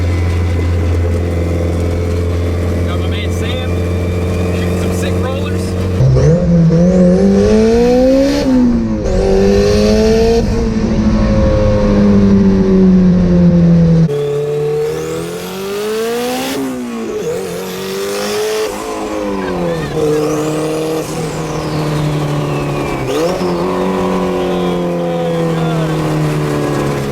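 A turbocharged Honda S2000 four-cylinder engine in a Ford Model A rat rod drives loud and close, droning steadily, then revving up and down through repeated gear changes with rising and falling pitch sweeps.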